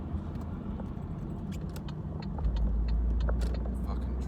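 Road traffic rumbles past, a steady broadband car noise that swells louder and deeper about halfway through as a vehicle draws near, with faint clicks scattered over it.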